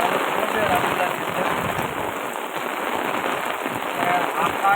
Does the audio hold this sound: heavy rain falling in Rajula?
yes